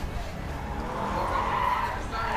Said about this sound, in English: These guys are doing a drift over here, which is kind of cool